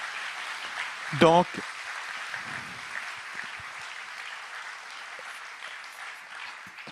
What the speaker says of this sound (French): On peut les applaudir, en effet.